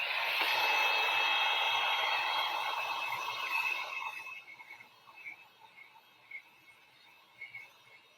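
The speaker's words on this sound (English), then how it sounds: "I'm going to hit this with a dryer real quick and then do another coat of red" An industrial heat gun blows hot air over red paint on a wooden door hanger, a loud steady whooshing rush with a faint whine that cuts off partway, leaving quiet scattered noises.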